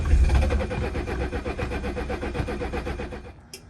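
A 1976 Mercedes-Benz 300D diesel engine with suspected air in the fuel lines cranks without catching, a rapid even chugging of the starter that runs several seconds then cuts off.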